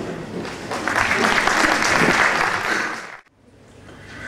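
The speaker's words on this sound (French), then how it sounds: "On peut l'applaudir." Steady applause from an audience at a Muslim community gathering fills the room for about three seconds, then breaks off abruptly into near silence.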